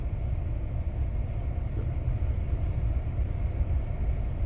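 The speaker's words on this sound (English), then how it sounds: "Car coming." A car on a nearby road rolls past outdoors, a steady low rumble that holds at a constant level throughout without a sharp peak, with no talk over it.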